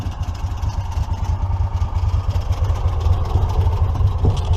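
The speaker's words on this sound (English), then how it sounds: "That noise is just the CVT, the weights in it when it's not idling properly." An EZ-GO ST 4x4 golf cart engine idles with a steady low throbbing and a faint rattling clatter from the CVT weights running through it, close by.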